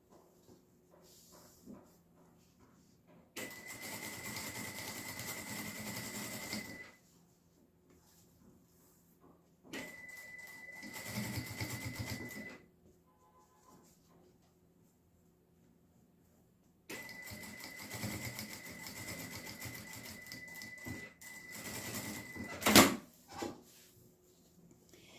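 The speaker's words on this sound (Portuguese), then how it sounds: "E vou fazer uma costurinha de pesponto bem aqui na borda." A sewing machine topstitches along the edge of a small fabric glasses case, running in three short, faint bursts with quiet pauses and soft handling noises between them.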